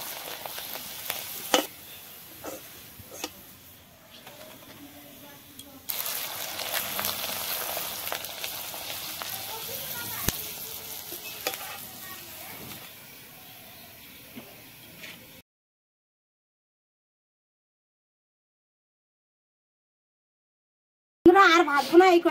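Rice flour papads frying in hot oil give a soft, continuous sizzle and hiss that rises and falls in patches, stops for a few seconds of silence, then bursts back in briefly at the end.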